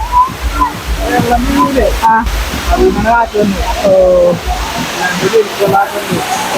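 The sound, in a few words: world's largest man-made waterfall, Ernakulam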